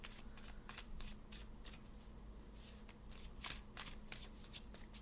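Tarot cards are shuffled by hand in a series of quick riffling bursts and soft shuffling rustles. The sound is quiet and close, in a hushed room, with no talking.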